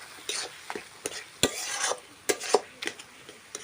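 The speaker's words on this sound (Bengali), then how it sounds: "ঘেঁটে নেব আমটাকে।" A spoon stirs and mashes mango in a pan for a Bengali mango chutney with fish roe, making close, irregular scraping and squishing strokes with short pauses between them and no talking.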